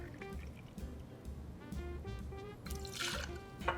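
Bourbon trickles from a bottle into a cocktail shaker, a close, steady liquid pour with a faint gurgle, ending in a brighter splash near the end.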